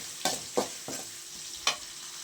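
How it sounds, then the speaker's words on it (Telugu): Onions frying in a pan, with light stirring scrapes and sizzle in a few distinct bursts over a soft steady frying hiss, close and moderately quiet, no talking. "ఎర్రగడ్డలు కూడా వేగొచ్చేసాయి"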